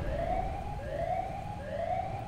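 A wailing siren from the creature Siren Head in the video game Cheese Escape repeats three times in rising sweeps, steady and moderately distant over a low rumbling game background.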